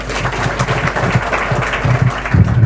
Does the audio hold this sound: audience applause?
yes